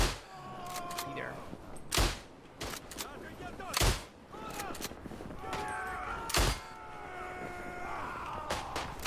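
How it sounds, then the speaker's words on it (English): Sharp gunshot-like impacts from the WWI shooter Isonzo ring out at irregular intervals, about four loud cracks over a busy battlefield backdrop of distant fire and ambient noise. "I love the headshot sound in game. It's a good sound."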